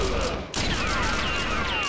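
Gunfire in the arcade shooter Virtua Cop 2 comes as rapid, close, loud bursts of shots with ringing, sweeping electronic tones after a brief dip.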